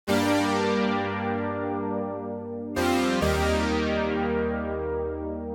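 Roland Juno-106 chords with the synth's own built-in effects switched on: two long, lush sustained chords, the second entering after a brief break, full and steady with no talking.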